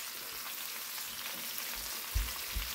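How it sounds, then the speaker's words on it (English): Vegetables such as zucchini, squash, onions and peppers stir frying in a pan with Italian seasoning and garlic powder, giving a steady soft crackling sizzle throughout with a couple of brief low knocks near the end and no talking. "And just let it stir fry."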